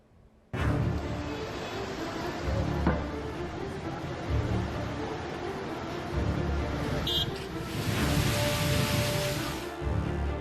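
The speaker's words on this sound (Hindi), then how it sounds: "एमपी के छतरपुर में भारी बारिश ने कई इलाकों को दरिया बना दिया है।" Heavy monsoon rain pours steadily in Chhatarpur, Madhya Pradesh, a dense continuous hiss with road and traffic rumble underneath, loud and unbroken for several seconds.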